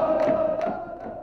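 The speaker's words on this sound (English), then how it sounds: "Everyone's singing, everyone's chanting" Near-capacity home crowd at a Toronto FC stadium, supporters' section singing and chanting together, a dense, sustained wash of voices with a steady sung pitch, loud and continuous throughout.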